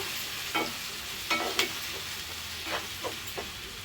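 Sliced onions and curry leaves fry in a pan for a catering-style drumstick and cashew curry. A steady close sizzle is broken by a few scraping stirs, with no voices.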